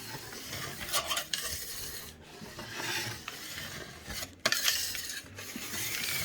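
Hot wax is scraped off the sintered base of a snowboard in repeated rasping strokes, close and fairly loud, with short pauses between passes and no talking.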